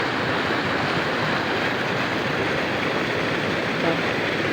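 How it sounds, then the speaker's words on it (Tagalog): Strong river current after afternoon rain, a steady loud rushing roar of water close by that fills the whole clip without letup. "ang lakas po talaga ng agos"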